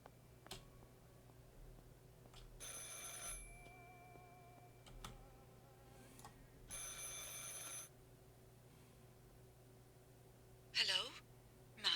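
A telephone rings in the Martha Is Dead video game: two long bursts of bright electronic ringing separated by a pause, set among sparse clicks, a steady low hum and quiet ambient noise.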